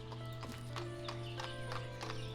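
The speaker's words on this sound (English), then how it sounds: "Oh, I hear the click-clack of horses." Horse hooves clip-clopping in the village-building game Ostriv, a steady run of regular hoof beats over a constant droning ambient hum, with a faint whinny and no talking.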